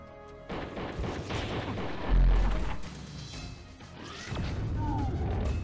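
A bomb in the Disruptor shooter game detonates with a heavy low boom amid sharp gunfire-like cracks and crashes, followed by further rumbling blasts.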